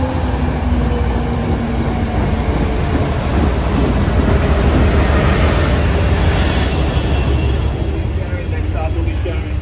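Interior rumble of an MBTA commuter train hauled by an MPI HSP46 diesel locomotive bound for Wickford Junction, a loud continuous low drone and rattle throughout, with an announcement voice over it.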